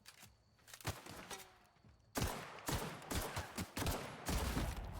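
Shotgun blasts in The Outer Worlds video game, a few loud, punchy shots close up with thumping impacts, coming faster and denser in the second half.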